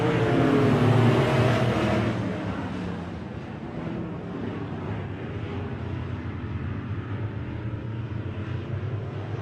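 A pack of race cars roars off at the green flag at Lake of the Woods Speedway, a loud, dense engine drone that peaks early and then settles into a sustained, slightly fading rumble.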